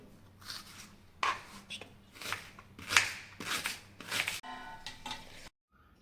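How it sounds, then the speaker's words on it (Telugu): Onions chopped finely for biryani: a knife taps rapidly and steadily on a board in close, bright bursts of quick strokes, pausing briefly between runs before stopping at the end. "సో వీలైనంత సన్నగా చాప్ చేసుకోండి వీటిని"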